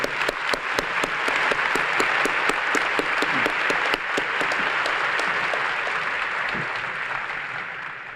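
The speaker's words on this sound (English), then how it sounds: "Please join me in a round of applause to recognize three outstanding colleagues." A faculty audience at an all-campus meeting breaks into sustained applause for award recipients, dense steady clapping that holds strong for several seconds before slowly thinning out, with no talking over it.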